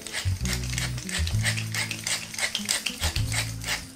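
A pepper mill grinds black pepper over a croque monsieur in a home kitchen, giving a steady run of close, dry ratcheting crunches in short rhythmic bursts with brief pauses between turns.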